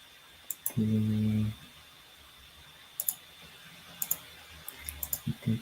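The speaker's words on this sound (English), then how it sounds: "let me finish typing up the TPs for the members" Clicks and keystrokes from a computer keyboard on a live forex trading desk, scattered sparse taps coming in small bursts, with a brief low tonal sound early on and a faint steady hum underneath.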